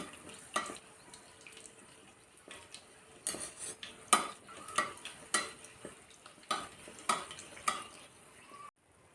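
A dough katori bowl frying in hot oil, with a soft sizzle under repeated close clinks and scrapes of a metal utensil against the pan, coming in irregular bursts before cutting off abruptly at the end.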